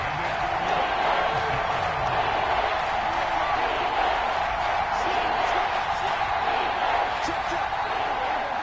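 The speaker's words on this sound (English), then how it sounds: "The crowd getting into it as we come up on a big third down." A large stadium crowd at an American football game roars steadily ahead of a big third down, a dense, sustained wash of cheering throughout, with a commentator's voice faintly audible.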